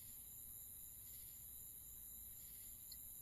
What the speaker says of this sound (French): Vous entendez au loin la chanson des grillons qui se joignent au concert des grenouilles.